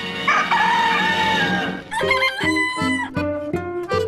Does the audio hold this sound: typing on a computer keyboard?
no